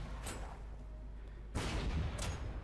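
Two heavy artillery blasts in the Panzer Corps 2 wargame, a short boom followed over a second later by a louder, longer rumbling impact, with no talk.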